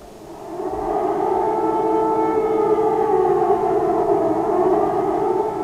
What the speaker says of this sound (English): the response to a morning air raid siren was unhurried